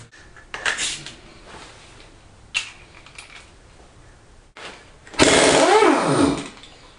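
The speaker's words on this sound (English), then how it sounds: "Now I'm going to have to use the impact gun to get this nut off." An impact gun removes a nut during an engine cam swap. A few sharp metallic clanks come first, then one loud, rattling, whirring burst that winds down after about a second.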